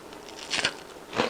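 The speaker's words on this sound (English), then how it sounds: "Can you hear the crunch?" Two sharp crunches of teeth biting into battered fried fish, close and crisp, separated by a short pause.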